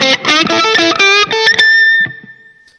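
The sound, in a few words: guitar through Line 6 POD HD500 DOD distortion model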